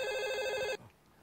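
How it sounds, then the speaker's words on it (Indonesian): A telephone rings alone with a bright, steady electronic tone for under a second, close and clear, then stops abruptly into quiet room noise. "Ada telepon."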